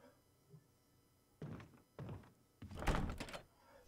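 A locked door in the Resident Evil HD Remaster video game rattles in a few dull thunks. Two short knocks are followed by a longer, louder clattering burst, with quiet background between them and no talking.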